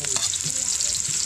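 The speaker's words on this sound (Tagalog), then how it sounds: "At ito naman po ay magigisa na ako ng ating ulam ngayong hapunan." Onion and garlic sautéing in a pan for a home-cooked pinakbet dinner, giving a steady, close, bright sizzle that holds evenly through the short stretch with no talking.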